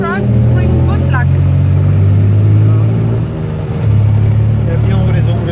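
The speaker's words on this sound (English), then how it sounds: "This is the classic tuk-tuk. Tuk-tuk ride." Steady low engine drone of a tuk-tuk on a night ride in Thailand, loud and continuous with a brief dip midway, and people talking over it throughout.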